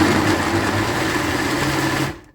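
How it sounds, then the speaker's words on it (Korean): A blender grinding cooked rice with seasoning for radish kimchi paste runs in a steady, loud, continuous whir with no talking, then cuts off abruptly at the end. "부드럽게 갈아주세요"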